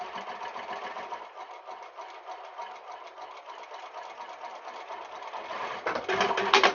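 A sewing machine stitches a tote bag seam in a quick, steady mechanical patter, fairly faint and close, with a brief louder burst near the end.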